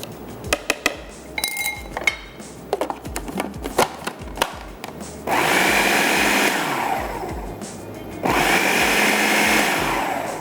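An electric chopper cuts onion for chapli kebab in short bursts, with a clatter of handling and tapping between two sustained, loud motor whirrs that end abruptly.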